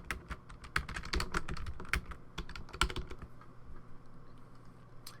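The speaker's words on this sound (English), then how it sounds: "I'll just type any old place up here is fine." Someone types on a computer keyboard in a steady, quick patter of close key clicks with a few louder keystrokes, then slows and thins toward the end, with no talking.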